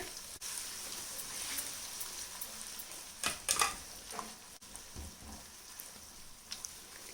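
Garlic, ginger and green chili sauté in hot oil over a high flame, giving a steady soft sizzle with a few brief louder crackles and stirring scrapes partway through.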